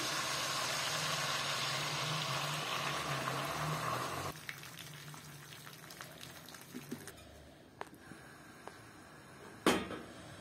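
Boiling water poured over sautéed rabbit pieces in a pot for molokhia, raising a loud hissing sizzle that drops sharply partway through and settles into quieter bubbling with a few clinks and a bump near the end.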